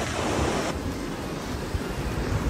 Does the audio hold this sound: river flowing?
yes